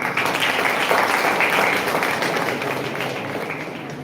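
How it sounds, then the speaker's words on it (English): Dense, steady applause from an audience at a college hackathon, loud and continuous, tapering slightly toward the end. "let us applaud the college management and organizers for coming up with the idea of a hackathon"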